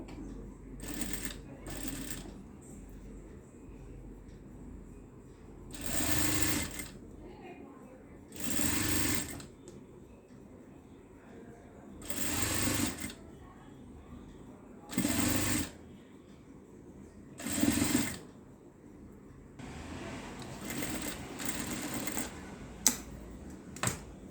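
Sewing machine stitching the sleeve band of a small child's garment, running in five or six distinct bursts of a few seconds each with pauses between, close and moderately loud over a quiet room.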